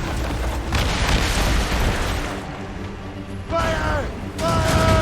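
Ship cannons firing in the naval battles of Assassin's Creed Rogue, heavy booming volleys that roll and rumble through the clip, with crew voices shouting over them.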